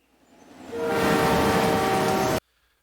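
Train sounds from the Train Life video game trailer: a loud sustained horn blast with steady tonal harmonics over rumbling rail noise, rising in quickly and cutting off abruptly after about two seconds.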